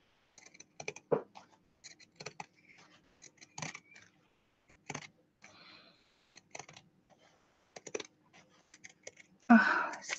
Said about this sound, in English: Oh, scissors are stiff.